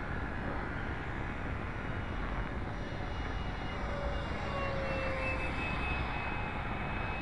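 Freewing MiG-15 RC model jet flying, a steady faint whooshing engine drone with a thin whine sliding across it, heard from a distance without talk.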